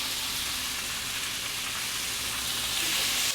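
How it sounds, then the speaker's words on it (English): Beef searing in a pan raised to high heat, a steady loud broadband sizzle that holds evenly throughout with no talk. "So now I'm gonna add my beef in here."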